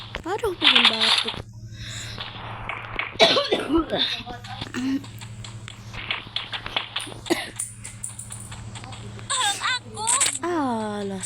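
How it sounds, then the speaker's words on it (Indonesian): Repeated harsh coughing bursts from a person, close and loud, with short pauses between fits, and casual talk mixed in. "pengen batuk."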